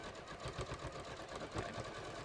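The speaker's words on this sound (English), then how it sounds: "Now I'm using the walking foot feature on my Janome 67P, 6700P." A Janome 6700P sewing machine stitches two layers of fabric with its walking foot engaged, making a quiet, rapid, even mechanical whir with a fast pulsing beat, heard close and alone.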